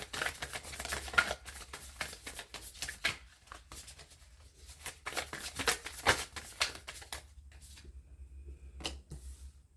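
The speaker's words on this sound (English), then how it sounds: "That wasn't an adequate shuffle." Tarot cards are shuffled in quick riffling bursts, crisp and close, pausing briefly and starting again over several seconds with no speech.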